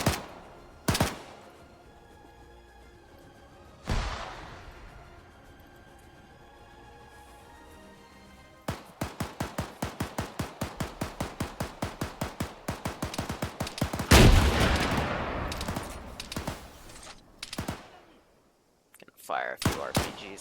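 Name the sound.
gunfire from a weapon cache going off in Taviana survival (video game)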